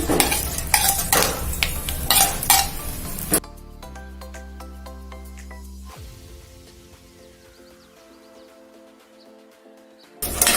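Tempering spices frying in oil for tindora chutney, with bursts of sizzling and stirring close by at first, then fading into quieter sounds with faint tones before a final sizzle.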